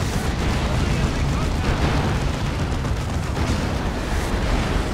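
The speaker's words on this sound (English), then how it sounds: "Orbital bombardment coming in." Orbital bombardment in the game Dawn of War 2 pounds a 3v3 battle with a continuous dense roar of rumbling explosions, loud and unbroken throughout, while voices sound within the din.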